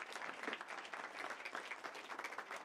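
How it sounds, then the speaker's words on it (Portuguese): An audience at a religious talk breaks into brief applause for a teacher, a dense patter of many hands clapping at moderate distance for a few seconds, with a faint voice underneath. "aplaudam ela"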